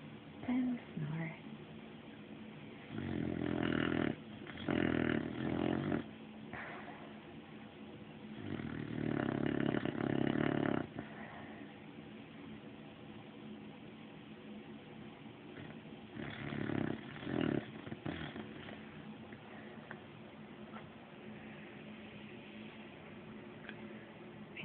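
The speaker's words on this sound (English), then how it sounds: "There's dreaming and snoring." A sleeping bedfellow snores in slow, rasping bursts a few seconds long, separated by quieter gaps, fairly faint and close by.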